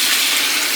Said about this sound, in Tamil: கருகுதடா மினிச்சு தண்ணியை ஊத்து.